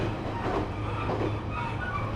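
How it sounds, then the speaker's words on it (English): A train runs on its rails on a journey toward Fukushima in Japan, with a steady, loud, close rumble and rattling wheel noise throughout and no voices. "I took some free trains to Fukushima."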